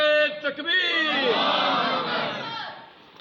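Crowd at a religious gathering in Tibba Sultanpur roars a loud collective chant in answer to the Nara-e-Takbir slogan, a sustained massed shout that swells and slowly fades.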